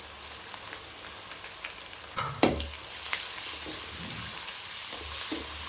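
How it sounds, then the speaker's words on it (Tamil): Chicken coated in masala fries in oil for a chicken gravy, giving a quiet, steady sizzle with a sharp clatter of a spoon against the pan partway through. "நல்லா இந்த எண்ணெயிலே வதக்கணும், அப்போ தான் நல்லாயிருக்கும்."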